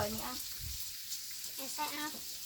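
Pork sizzles and spits on a tabletop grill at an outdoor meal by rice fields, a soft steady crackle while people speak nearby over it.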